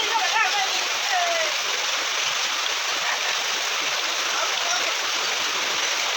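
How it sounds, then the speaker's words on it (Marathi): Sudden heavy rain pours down in a Konkan village, a loud, unbroken hiss and roar of water that holds steady throughout, with a brief voice heard near the start. "असा पाऊस चालू झाला अचानक."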